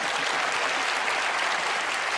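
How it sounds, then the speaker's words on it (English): Steady, dense applause from a magic-show audience fills the whole stretch at an even, close loudness, with no voices breaking through. "Give her a round of applause."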